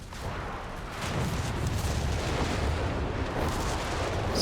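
A walking Stuka rocket artillery barrage in Company of Heroes 3, heard as a continuous, roaring wash of explosions that swells after the first second and stays loud and dense throughout.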